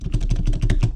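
Rapid, close keystrokes clatter on a computer keyboard in a quick irregular burst of about a dozen taps, with no voices present.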